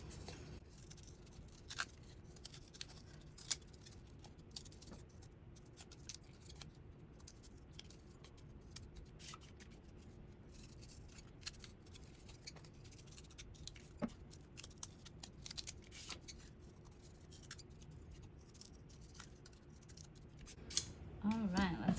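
Scissors snip through cardboard while cutting out parts for a model T-Rex, a soft, steady run of quiet crunching cuts at close range over low background hiss, without any speech.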